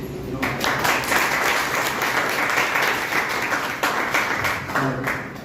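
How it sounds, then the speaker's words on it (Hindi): Strong applause from an audience at a stage event, steady dense clapping held for about five seconds with slight dips and surges in intensity. "जोरदार ताली होती"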